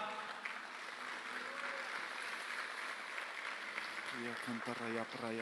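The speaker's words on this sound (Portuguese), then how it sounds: "Aplauda o Senhor Jesus que aqui está." A church congregation applauds in continuous, even clapping, with a voice speaking over the applause toward the end.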